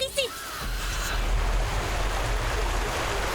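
In a cartoon set in prehistoric caveman times, a river rushes in a continuous broad whoosh of flowing water. A brief high voice-like sound rises over it at the very start.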